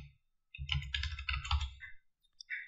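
Keys clatter quickly on a computer keyboard as a mobile number is entered, a close, quiet burst of clicks lasting about a second and a half, followed by a short pause and one more tap.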